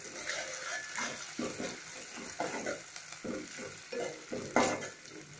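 Ginger garlic paste frying in a pan with onions and curry leaves for a bottle gourd curry, steady sizzling with repeated stirring scrapes, moderately faint and close.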